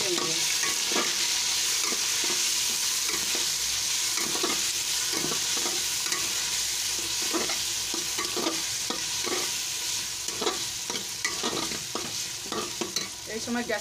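Ginger-garlic paste frying hard over a high gas flame for chicken yakhni pulao, a steady dense sizzle with repeated scraping stirs of a spatula against the pan, close and continuous with no talk.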